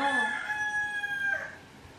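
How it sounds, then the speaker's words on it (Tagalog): A single rooster crows nearby, a clear rising then sustained call that tapers off, heard alone against quiet background. "Ingay ng manok."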